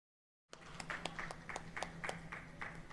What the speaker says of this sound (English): Please clap for sir.